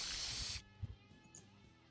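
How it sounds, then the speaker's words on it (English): A loud, broad spray-paint hiss from a retro video game runs for about half a second and then cuts off, followed by a few soft thumps and faint game sounds. "and then spray paint"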